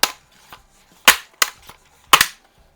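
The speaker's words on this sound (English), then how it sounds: "let's go ahead and we'll cock it" Barra 900 pump-action pellet rifle being cocked, a series of sharp mechanical clacks and snaps: two soft clicks, then three louder close-up clacks at roughly even intervals, with no voice.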